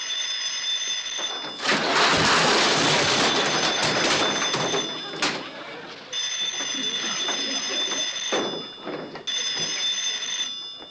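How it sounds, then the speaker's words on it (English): An old-fashioned telephone rings in bursts in a small country store, a bright repeated bell separated by short pauses, with rumbling background noise between the rings. "Phone's ringing, Sam."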